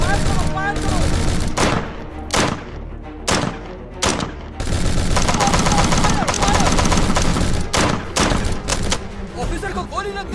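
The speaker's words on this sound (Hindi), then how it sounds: "सामने से फायर हुआ, फायर करो, फायर करो।" A shootout in a Hindi-dubbed action movie, with loud bursts of rapid automatic gunfire and single heavy shots hitting in clusters, some thuds mixed in, and shouting voices between the volleys.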